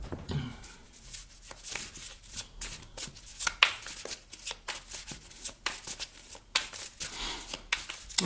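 Tarot cards are shuffled close up in a rapid run of crisp riffles and soft slaps, quiet and mostly alone with no speech.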